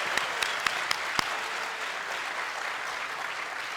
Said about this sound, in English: joining us in applauding your sons and daughters and loved ones